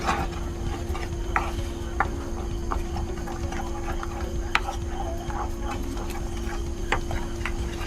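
Jam mixture with powdered rock sugar being stirred in a pot, a continuous bubbling simmer broken by sharp scraping clicks and taps of the spoon at irregular intervals, fairly close and moderate in level.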